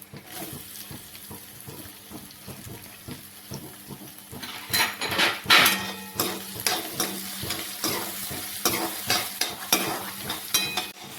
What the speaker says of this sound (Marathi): इथे आपण कांदे सोनेरी होईपर्यंत परतून घेऊया।